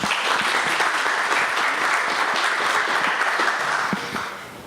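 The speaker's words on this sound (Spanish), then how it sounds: "Un aplauso para don Luis, por favor" Audience applause at a talk on bridge and structure rehabilitation, a full, even burst of many hands clapping that holds steady and then starts to fade near the end.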